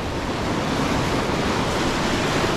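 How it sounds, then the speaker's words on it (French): Ocean waves wash onto the shore at a coastal shore-fishing spot in light wind, a loud, continuous broadband roar of surf that holds steady throughout, close by and with no voices over it. "je reculais parce qu'il y a une vague qui arrivait"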